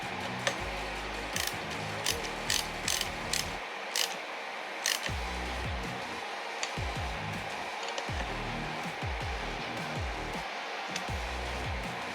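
Ratchet wrench tightens a Zerk grease fitting on a car control arm, rapid close clicking strokes repeated in bursts with brief pauses between, over a steady background hum.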